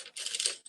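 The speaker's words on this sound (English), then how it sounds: "listening to people shuffling through Lego bricks" LEGO bricks being shuffled and sorted by hand, a short bright clatter of small plastic pieces rattling together up close, one quick burst with a brief pause and a final tick.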